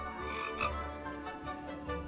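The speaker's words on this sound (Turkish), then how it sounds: "Kurbağa durup durup ötüyor." A frog croaks in the Roblox game 2 Minute Town 2, giving a few faint, evenly spaced croaks over a steady low game hum.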